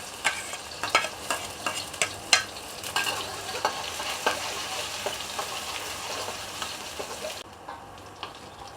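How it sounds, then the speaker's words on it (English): Garlic stir-frying in a hot pan, a steady sizzle with regular scraping strokes of a spatula about once a second, close and fairly loud, easing off near the end. "Now Aunty want to stir fry this shiitake mushroom. Okay, put in the garlic."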